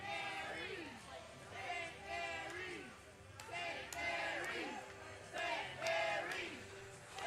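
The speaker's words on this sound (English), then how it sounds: "The crowd trying to rile up the Eaglets" Hockey crowd at a St. Mary's high school playoff game rallying behind the Eaglets, a roaring, surging mass of voices with chanting rising and falling across the rink in waves.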